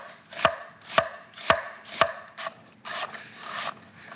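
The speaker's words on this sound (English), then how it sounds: "we're gonna get started by mincing up 1 yellow onion" A knife minces a yellow onion on a cutting board, four sharp, evenly spaced chops followed by softer, quicker cuts, close and alone with no talk.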